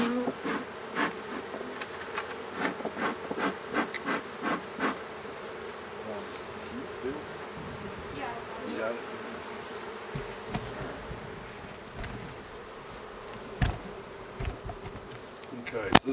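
Honey bees buzz around an opened beehive during an inspection, with individual bees droning close past at irregular moments over a steady background hum, along with occasional handling noises.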